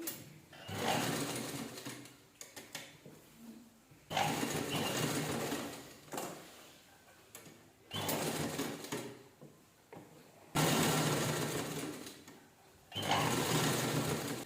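A sewing machine stitches a fabric phone charger holder in a circle, running close and steady in several bursts of a few seconds each, broken by short pauses and handling noises.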